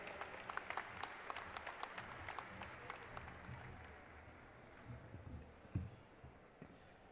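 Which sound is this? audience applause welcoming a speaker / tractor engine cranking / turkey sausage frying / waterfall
audience applause welcoming a speaker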